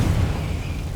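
A Confringo blasting-spell explosion in the game Hogwarts Legacy, a brief, loud, low rumbling burst that fills the moment and decays into a dull roar.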